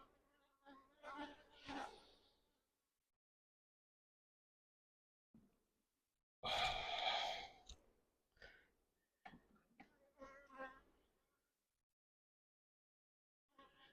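Honey bees buzz at an open beehive during a routine health check, close and moderately loud in several separate bursts with silent gaps between them.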